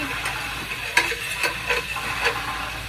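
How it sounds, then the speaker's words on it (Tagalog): Steady sizzling of garlic and onion frying in hot oil, with a few sharper stirring scrapes and pops rising above the constant hiss. "Mainit na ang ating mantika. Nilagay ko na yung bawang, sibuyas or sibuyas bawang."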